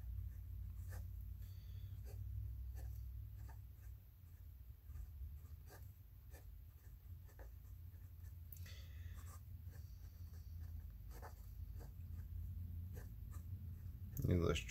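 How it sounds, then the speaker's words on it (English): A dip pen nib with Noodler's Dark Matter ink scratches across paper up close in short, rhythmic strokes over a low steady hum, with a brief clatter near the end. "let's write this right here."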